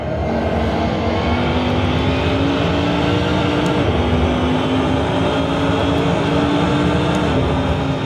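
A Corvette Daytona Prototype race car engine in the game Assetto Corsa at Mugello drones steadily at high revs with a rough, crackling edge, loud and continuous with no voices.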